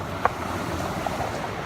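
Sea waves wash steadily at the seaside, a continuous broad rushing mixed with wind across the microphone, with no talking over it.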